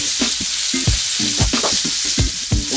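A steak sears in a pan with loud, steady frying hiss, broken by rhythmic scraping or tapping strokes about twice a second, close and with no voices.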